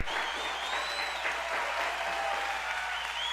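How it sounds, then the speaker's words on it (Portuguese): A church congregation applauds steadily at close range, a dense clapping wash lasting a few seconds with a faint voice underneath. "Aplauda ele bem forte"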